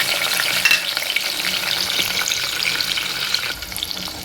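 Onions frying in oil with cumin seeds for an egg curry, a close, dense crackling sizzle with light stirring scrapes throughout, steady and fairly loud with no talk.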